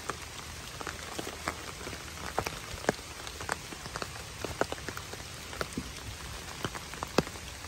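Rain patters steadily on a surface, a dense hiss with many distinct close drops tapping irregularly throughout, and nobody speaks.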